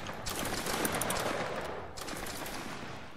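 A volley of muskets from grenadier reenactors during drill, a dense crackling burst of overlapping shots that rolls for about two seconds and then trails off into a second, softer ragged spread of reports.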